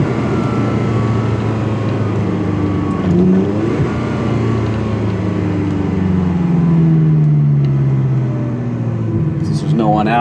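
Ferrari 360 engine rumbling loud and close, its pitch sweeping upward as the car launches and climbs through the gears, with shift breaks between rising pulls and a voice talking over it.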